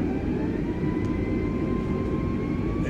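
Airbus A320neo jet engines spool up in Flight Simulator 2020, a loud steady roar with rising whining tones, heard alone and close.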